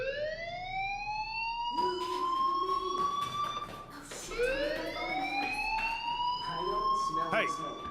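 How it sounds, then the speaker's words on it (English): A school fire alarm rings in the video game Life is Strange. Its wailing tone sweeps upward again and again, and several voices talk over the alarm. "do you hear that fire alarm? That means you should be outside."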